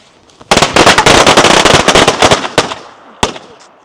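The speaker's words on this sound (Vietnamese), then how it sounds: "Anh em mời đốt pháo tẹt ga ở Trung Quốc không sợ luôn nhá." A loud, dense burst of firecrackers set off in China for the 2024 Lunar New Year, rapid crackling pops for about three seconds, then a final single sharp bang after a short pause.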